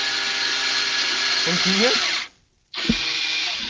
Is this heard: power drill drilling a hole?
yes